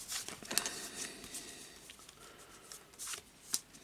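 Playing cards from a Dystopian Wars tabletop game deck being sorted into order, soft close-up slides and flicks with a couple of sharper snaps, quiet and without talk.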